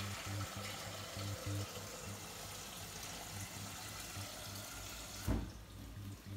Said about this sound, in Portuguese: Eu vou usar esse restinho aqui da minha água de brócolis. Que vai dar todo um tchan, né? Até silenciou. e vou botar mais água.